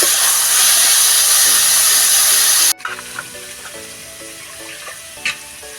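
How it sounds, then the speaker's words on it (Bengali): Vegetables for potato pasta fry in a pan with a loud, steady sizzle and hiss that cuts off abruptly, leaving faint clinks and light kitchen clatter. "পাস্তা সবজিটা ভেজে নেব আমি"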